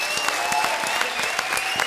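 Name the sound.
audience applause for actors on a comedy show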